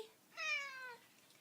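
A neutered stray cat gives a single clear, drawn-out meow with a falling pitch, close and fairly quiet against a silent room.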